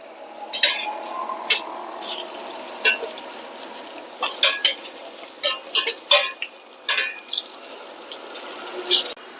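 Pachaipairu (green gram) bondas frying in hot oil, with a steady soft sizzle broken by sharp, irregular clinks and scrapes of a utensil turning and lifting the fritters nearby.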